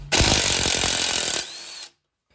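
A power tool, likely an impact driver or drill, spins off the 10 mm bolt holding a brake line on a 2002 Ford Taurus SES during a strut replacement, a loud close whirring burst of about two seconds that cuts off abruptly.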